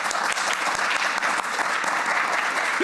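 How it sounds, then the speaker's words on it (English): A crowd applauds steadily, dense clapping sustained throughout at a fairly loud, even level. "Can you give a round of applause?"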